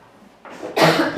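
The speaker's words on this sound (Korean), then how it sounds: "제가 방해되게 기침이 나는데 어떡하죠?" A single close, sharp cough from a man about to begin preaching at a Sunday church service, rising to a burst at the end of a short quiet moment.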